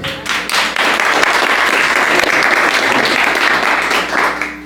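A church congregation applauds loudly and continuously in a reverberant room, dense clapping filling the whole stretch.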